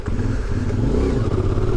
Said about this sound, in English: if I brake right now and I grab a whole lot of front